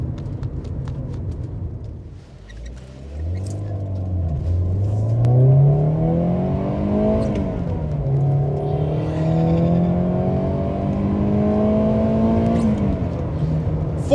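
A Mercedes 190E 2.5 16V engine revs hard through the gears, each pull climbing in pitch, then dropping at the shift and rising again, loud and close, with no talking.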